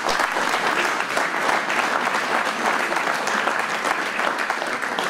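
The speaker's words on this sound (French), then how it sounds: "On peut les applaudir aussi." A crowd at an agricultural fair in Saint-André-les-Alpes applauds the gendarmes, steady dense clapping sustained for several seconds without a break.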